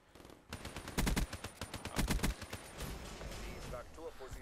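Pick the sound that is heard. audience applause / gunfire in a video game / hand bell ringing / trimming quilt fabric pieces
gunfire in a video game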